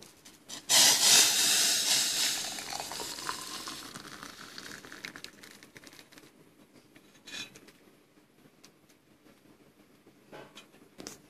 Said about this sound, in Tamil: நல்லா கொதிச்சிருச்சு பாருங்க